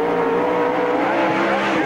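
Red number 25 sprint race car taking the green flag at Spoon River Speedway, a loud, continuous roaring engine at high revs, held steady and near for the whole stretch.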